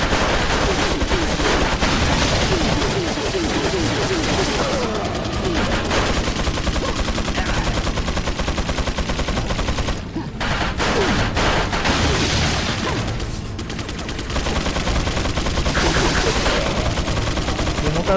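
Gunfire in Resident Evil 4, dense sustained bursts of rapid shots and booms running almost continuously, loud and close, with one brief drop in the middle before the shooting resumes.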